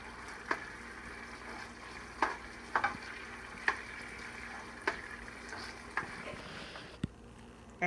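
Buffalo shrimp fry in a pan with a steady sizzle, broken by scattered clicks and taps as the pieces are turned one after another. The sound is close and fairly quiet, with no talking.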